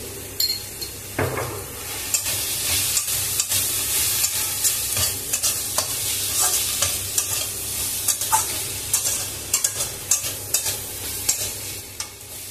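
Susni greens with potato sizzle steadily in a hot pan while a utensil scrapes and stirs them, with frequent metallic clicks against the pan throughout.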